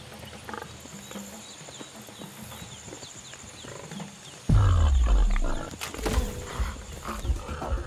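In Ancestors: The Humankind Odyssey, a wild boar roars with a sudden deep, loud bellow that starts after a stretch of rustling jungle ambience, then tapers into grunting and thudding movement nearby.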